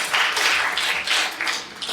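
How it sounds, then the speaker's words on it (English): An audience at a leadership talk gives a short round of applause, a steady moderate patter of clapping for a couple of seconds with no speech over it. "I do want to give them a round of applause for the 5 ideas."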